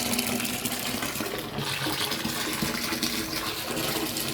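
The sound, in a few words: water filling a tub to soak mower deck parts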